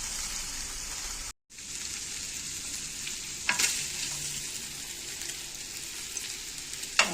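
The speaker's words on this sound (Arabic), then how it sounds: "كده انا بحمر اللحم حبايبي مطرح الطماطم اللي انا عاملاها" Steady close sizzling of meat frying in a pan over homemade tomato sauce, bright and crackling throughout, with a brief dropout and a few sharper pops and stirring clinks.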